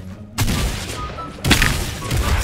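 Gunfire in a Fortnite 1v1 match: two sharp, loud bursts of shots with booming low end, the second arriving about a second after the first, with game ambience between.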